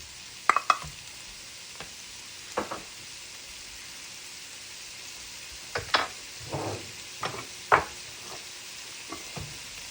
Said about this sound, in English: Throw in your garlic. Let this saute for a little while